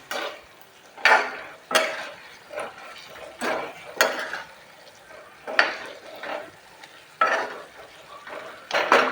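A spoon stirs a Kathiyawadi stuffed whole brinjal curry in a pan, with a run of scraping, clinking strokes at an uneven rhythm over a soft sizzle, close and moderately loud.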